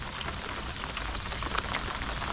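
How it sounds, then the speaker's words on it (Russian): Light rain starting to fall around an angler fishing for pike from a boat, a steady soft hiss of drops with scattered sharper taps, close by and continuous, with no talking. "только дождя нам еще не хватало"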